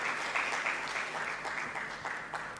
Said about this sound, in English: please, a round of applause to our panel members